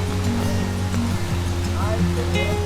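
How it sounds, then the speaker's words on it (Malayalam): A stream fed by Vattayi waterfall runs beside a forest path, giving a constant rushing flow under nearby talk. "ഞങ്ങൾ നടക്കുന്ന ഇങ്ങേ സൈഡിൽ കൂടെ ഈ അരുവി ഒഴുകി ഇങ്ങനെ പോവാണ് കേട്ടോ"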